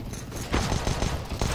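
Rapid gunfire bursts from a Counter-Strike match at a BLAST Premier tournament, sharp repeated shots crowding together over a busy in-game background, moderately loud and close.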